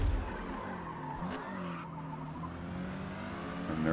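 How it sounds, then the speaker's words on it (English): A Mazda race car in Forza Motorsport spins and slides at Lime Rock, tires squealing and skidding in a long continuous screech over steady engine noise, with no voices. "that Mazda spins pretty bad right there, slides pretty bad"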